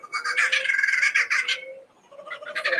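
A bird mimicking a kookaburra call gives a run of loud, close, harsh cackling notes, pauses briefly, then starts again.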